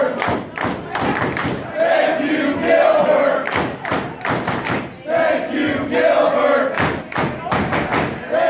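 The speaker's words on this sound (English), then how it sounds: "One more round of applause for Gilbert" Wrestling crowd at a Cactus League Wrestling event cheering and shouting amid repeated sharp claps and thuds, a loud, dense roar that surges and dips throughout.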